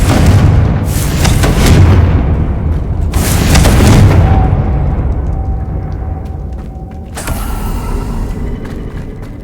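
A Confringo blasting spell in Hogwarts Legacy sets off loud booming explosions, two heavy blasts in a row followed by a rumbling decay, then a sharper crack near the end.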